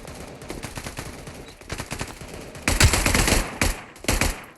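Weapons fire in the 5v5 shooter Blockfield: lighter shots at first, then a loud, close, rapid burst of automatic fire near the end, followed by a few more sharp shots.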